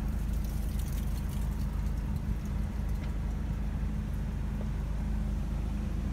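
A 2015 BMW 328d xDrive Sport Wagon diesel engine idling just after starting, a steady low rumble with a faint clattery texture, even and unchanging throughout, with no voices.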